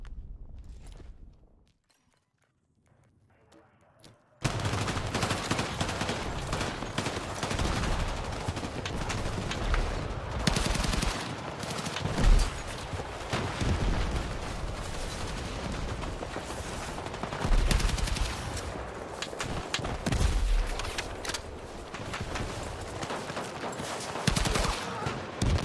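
Rapid gunfire in a video game, fired from the hip with a red laser sight. After a brief quiet start, dense bursts of shots and impacts rattle on continuously and loudly to the end.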